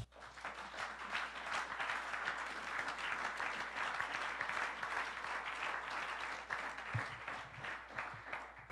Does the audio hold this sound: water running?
no